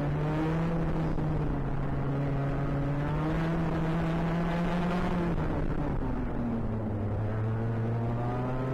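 Race cars passing on a circuit during an overtake, a loud sustained engine drone with shifting pitch that dips as the cars go by, continuous throughout with no talk.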